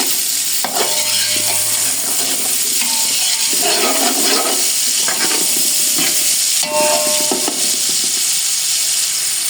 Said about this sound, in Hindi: ये 3 बड़े प्याज इन्हें फ्राई करके तल के निकाल लेंगे। हम इन्हें फ्राई करेंगे पहले।